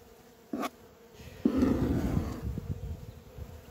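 A low, steady buzzing of many honeybees at a hive swells up close after a brief knock, droning on continuously with small bumps and rustles.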